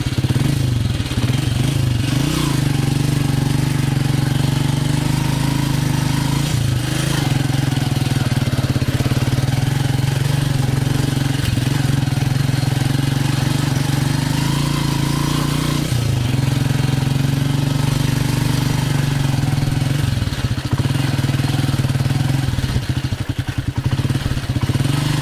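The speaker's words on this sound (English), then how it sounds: "I want to climb to this road with this old bike" An old 125cc motorcycle labors up a steep road, its engine droning loud and close throughout with a steady rough mid-pitched note that surges slightly as the throttle shifts, no talking over it.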